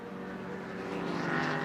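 Oreca 03 LMP2 prototype race car at a classic endurance race, a steady buzzing engine drone that grows slightly louder as it passes at speed, mid-distance with no talk.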